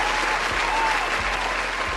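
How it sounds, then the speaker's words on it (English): An audience bursts into steady applause, a dense wash of many hands clapping at an even loudness from start to end, with no voices over it. "Give her a round of applause."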